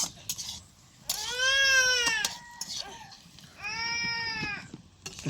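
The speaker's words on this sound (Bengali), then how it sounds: "কান্না করতেছে খালি।" A small child cries in two long wailing bursts, close and fairly loud, with a short whimpering break between them and a faint catch at the end.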